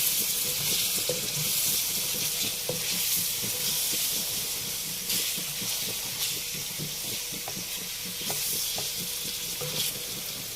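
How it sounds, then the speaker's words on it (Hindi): Steady, loud sizzling of whole tomatoes frying with garlic and ginger in a karahi for chana daal, with occasional stirring clicks throughout; no voices. "यहाँ हम इन साबुत टमाटरों को ही थोड़ा सा फ्राई करेंगे लहसुन अदरक के साथ"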